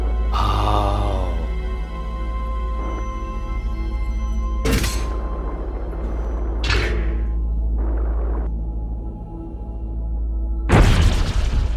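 A bomb blasting in the underwater game Song of the Deep, a deep booming thud over a constant low game rumble, with several sharp bursts spread across the passage and a final loud blast at the end.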